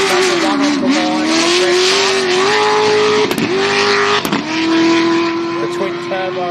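A race car launches off the line at the Gundy 500, engine screaming loud and near, its pitch climbing through quick gear changes with sharp breaks between them, while commentators talk over it.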